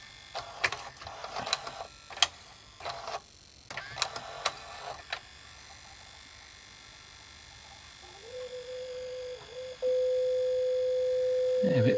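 A jammed Panasonic MVHD620MkII VCR tape mechanism clicks and clunks through several bursts, then settles into a sustained high, steady squeal that grows louder near the end.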